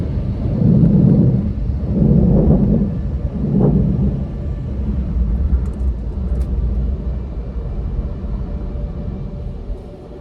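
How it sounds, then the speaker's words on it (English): An automatic car wash runs loudly around a car as it drives through, with a deep, steady rumble and repeated surging whooshes of brushes and blowers that swell and fade. "And car wash done."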